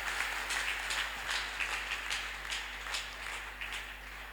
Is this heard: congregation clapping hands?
yes